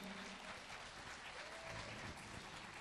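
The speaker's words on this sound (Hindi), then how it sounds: "तालियों की गड़गड़ाहट इतनी ज़्यादा होनी चाहिए कि लगे हाँ हमारे एकेडमी के एक सितारे ने परफॉर्म किया।" Audience applause after a performance at the IAS Academy in Mussoorie, a continuous, dense roar of clapping from a large crowd, steady throughout, though very faint in level.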